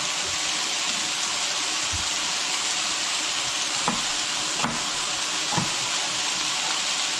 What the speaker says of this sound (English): like in this case, the frying of the chicken